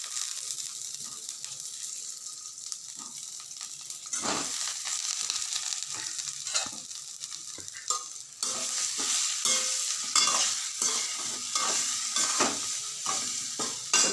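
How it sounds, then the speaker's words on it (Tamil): Boiled sweet corn cubes shallow frying in oil in a pan, a steady bright sizzle that swells louder partway through, with repeated scraping stirs and clinks of a utensil at close range. "இதில் போட்டு ஷாலோ ஃப்ரை பண்ணும்"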